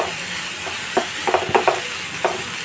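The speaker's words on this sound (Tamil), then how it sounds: "இந்த வெங்காயம் வந்து ஒரு 3 நிமிஷம் வந்து நல்லா வதங்கட்டும்." Onions sauté with salt in a pan for pav bhaji, a soft steady sizzle under several light spatula scrapes and taps.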